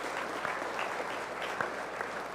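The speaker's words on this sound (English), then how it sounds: "Let's give all these kids a big round of applause," Audience applause for the kids at a 4-H fair supreme showmanship event, a steady wash of many hands clapping at moderate, even volume throughout, with a faint low hum beneath.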